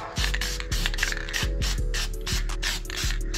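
Close hissing sprays mixed with clicking, ratcheting mechanical sounds, as parts are sprayed down in quick repeated bursts.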